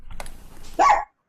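A small dog lets out a single sharp, loud bark near the end, after a stretch of quiet indoor background noise.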